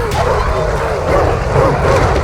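Cerberus hounds in the God of War III video game bark and yip in a dense, loud, continuous growl mixed with game background noise.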